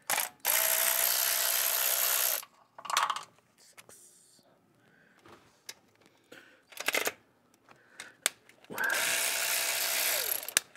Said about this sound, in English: let's go ahead and get underneath and get the four bolts out here and then we'll pull this bad boy off